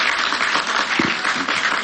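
An audience in a Banyuwangi TV studio claps in steady, dense applause that holds at an even level from start to finish, with a faint voice briefly underneath.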